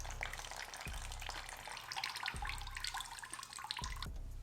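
Water runs steadily out of the cooling system drain of a Kawasaki Z900 motorcycle, a continuous close splashing trickle broken by a few brief knocks.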